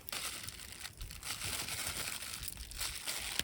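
Thin plastic bag worn over a hand crinkles and rustles continuously while raw chicken is handled at a winter campsite, a close, busy crackling texture with small bursts and no talking.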